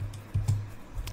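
Quick keystrokes on a laptop computer keyboard, a few soft, close clicks in a short burst with no talking.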